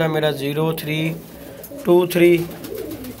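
Pure-bred working pigeons cooing close by in soft, rolling bursts, first a long coo then another after a short pause, with a voice briefly speaking over them.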